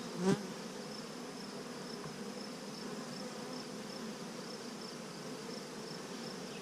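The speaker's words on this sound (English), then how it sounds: "There's the bee." Bees drone in a steady, soft hum close by during a June hive inspection, with a brief knock near the start and no talk.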